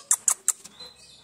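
A small bird gives three quick, sharp high chirps in a row, close by, followed by a fainter trailing twitter.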